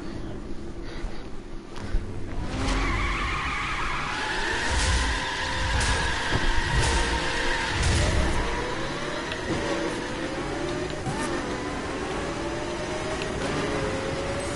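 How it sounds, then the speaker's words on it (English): Koenigsegg supercar in the racing game The Crew Wild Run, engine revving and whining through gear changes as cars race and pass, with a rising, sweeping engine tone and bursts of tire and road noise. "this dude just passed us in the Koenigsegg too"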